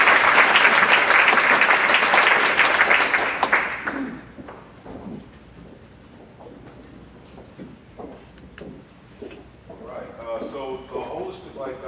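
Audience applause at a mindfulness and health conference panel welcoming a speaker, dense and steady for about four seconds, then fading into scattered claps before a voice begins speaking.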